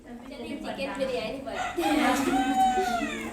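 A rooster crows nearby, its drawn-out call rising over a background of ongoing speech in an indoor setting.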